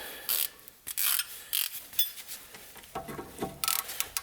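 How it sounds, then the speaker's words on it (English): A ratchet works a rear brake bolt on a Range Rover, giving short bursts of rapid metallic clicking in uneven spurts close by, with pauses between strokes. "let's actually try with a ratchet"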